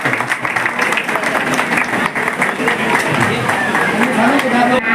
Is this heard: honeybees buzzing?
no